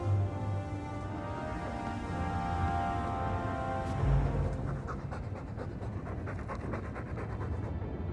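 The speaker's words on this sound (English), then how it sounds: "All that noisy dog breath, day in, day out." In the video game Dragon Age 2, a dog pants steadily, with rapid, rhythmic breaths that continue for several seconds at a moderate, close level over a faint background hum.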